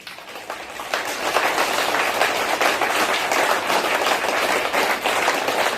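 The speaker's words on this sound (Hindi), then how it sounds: "एक एक हाथ अपने खुद के लिए तालियां बजाओ।" A crowd applauds steadily for several seconds, dense continuous clapping that swells after the first second and stays loud throughout.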